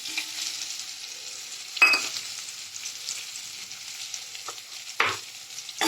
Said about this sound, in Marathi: आता ही फोडणी झाली मस्त. आता यात आपण आपले लाल भोपळा घालून घेऊया.